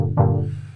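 An FM synth chord rack in Ableton plays a single chord, struck softly and then swelling into a bright, sustained tone that slowly fades, with no voices present.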